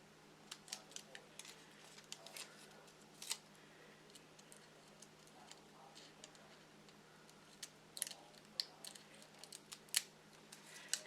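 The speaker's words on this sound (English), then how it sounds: "I'm going to take a pair of scissors" Quiet, irregular snips of scissors cutting fuzz, small crisp clicks scattered over several seconds against a faint steady hum.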